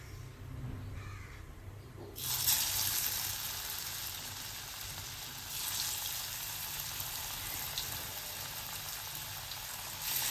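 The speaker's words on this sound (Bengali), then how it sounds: "এবার ধোকাগুলোকে ফ্রাই করা হবে, একটা একটা করে সব যাবে" Dhoka lentil cakes dropped one by one into hot mustard oil, a quiet hum that gives way to a steady, dense frying crackle, with a second surge of sizzling partway through.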